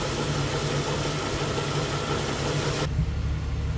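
A Jeep CJ engine runs steadily at idle, a low continuous rumble with mechanical vibration, then the upper hiss drops away near the end while the engine keeps going.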